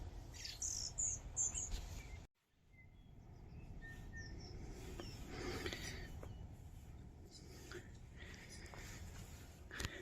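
Fantails chirp in Sinclair Wetland, giving soft, high, brief tweets scattered over a quiet outdoor background with a low rumble, some close and some farther off.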